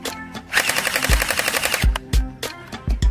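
A battery-operated SCAR-L airsoft assault rifle fires loud, close mechanical bursts of rapid clacking shots with short gaps between them, each burst ending in a low thump, and no voices over it.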